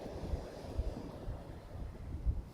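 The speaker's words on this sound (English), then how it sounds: "So windy" Strong wind blows across a beach, buffeting the microphone in low rumbling gusts with a few heavier thumps, a steady roar with no voices.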